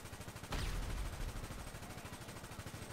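Gunfire in a video game: one sharp loud blast that rings out, then quieter continuous rattling and rumble, with no voices.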